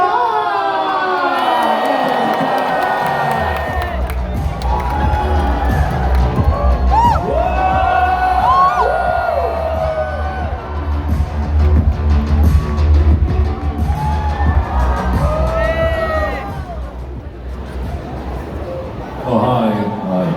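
A crowd at the Hong Kong comic con opening ceremony cheers and whoops loudly as stars arrive on stage, sustained and roomy under music and an announcer's voice.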